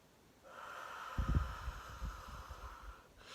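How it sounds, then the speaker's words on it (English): A single slow, deep breath drawn in and let out close to the microphone, soft and airy with a faint nasal snort, alone in a quiet room. "So I'm going to breathe in first."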